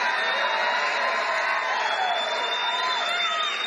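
A large political rally crowd cheers and whoops in a loud, steady roar that fills the whole moment, with no break or lull.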